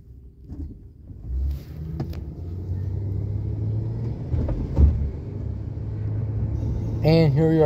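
Inside a car on a short ride to Walgreens there is a steady low road and engine rumble with some wind buffeting, and a voice speaks near the end.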